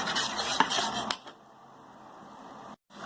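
Metal spoon scraping and stirring thick rice flour dough in a pan over a low flame, a busy clattering rub for about a second, then a faint soft scraping that fades nearly to silence.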